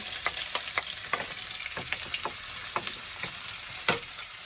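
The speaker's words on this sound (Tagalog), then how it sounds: "magigisa na ako ng ginger, ng bawang" Ginger and garlic sauté in a hot pan, a bright crackling sizzle broken by about a dozen quick stirring scrapes, close and without talk.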